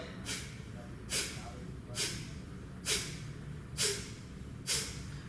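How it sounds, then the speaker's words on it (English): Six sharp, forceful yoga breath-of-fire exhales pushed out through the nose at a steady rhythm, about one per second, close and clear over faint background hum. "Breath of fire is that forceful exhale."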